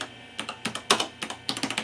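Keys on an old computer keyboard clatter in quick, uneven bursts, each press a sharp close click, in a short run of typing with no voices.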